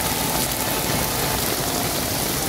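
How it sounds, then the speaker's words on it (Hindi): Heavy rain pours down over a market square at Abid Market in Lahore, a steady, dense broadband roar of water filling the whole stretch without pause, with no voices. "ये देखें बहुत ज़्यादा तेज़ बारिश है जी"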